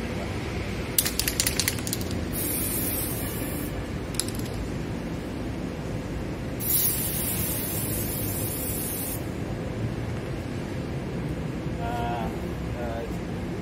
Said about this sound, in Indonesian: Bisa dilakukan dengan cara membalik dan semprot sampai habis agar tidak ada penyebab